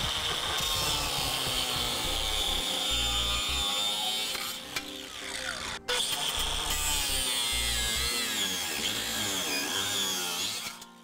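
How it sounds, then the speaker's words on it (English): A cutoff wheel grinds through a vehicle frame to trim it back while a Draw-Tite Max-Frame trailer hitch receiver is fitted. The whine is loud, high and sustained, with brief dips as the wheel bites into the steel. "Using a cutoff wheel, we can just cut it back approximately an inch to inch and a half to allow for the clearance that we need."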